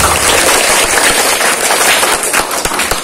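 Schoolchildren at an elementary school religious lesson clap loudly and unevenly, a dense nearby burst of hand claps with sharp individual slaps standing out toward the end.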